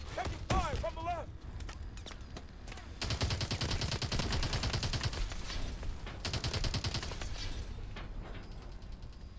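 Gunfire in Call of Duty: Advanced Warfare, a brief voice at the start, then long sustained bursts of rapid automatic fire in dense rhythmic volleys with brief pauses between them.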